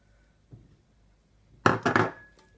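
A utensil stirs Guyanese-style prawn fried rice in a pot, heard as one faint scrape followed by a short burst of close, loud scraping and clattering against the pot.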